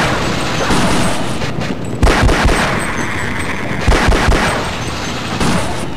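Rapid weapon gunfire in Half-Life, loud and close, with sharp repeated bursts near two and four seconds over a dense roar of battle noise.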